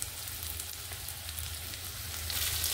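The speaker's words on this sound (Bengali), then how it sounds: "সবজিগুলোকে ঠিক এইভাবে ভেজে নিতে হবে।" Vegetables frying in a pan for a vegetable and rice dish, a steady close sizzle and crackle that holds for about three seconds and swells slightly near the end, with no talking.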